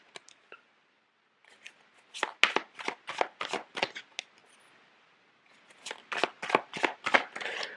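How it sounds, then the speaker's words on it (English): Tarot cards are shuffled and laid out on a surface, giving a run of quick crisp slaps and flicks in two bursts separated by a short pause, close by, with no talking. "So let me lay out the cards."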